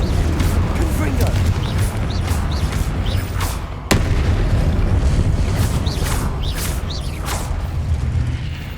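A Confringo blasting spell detonates in Hogwarts Legacy amid a dense, continuous roar of battle noise, with a sharp burst near the middle and repeated booming impacts layered over constant low rumble.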